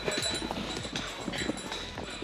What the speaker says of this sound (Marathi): गाढवांची रेसिंग लागले